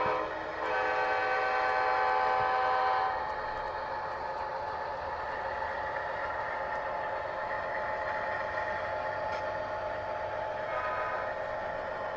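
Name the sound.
model train locomotive horn sound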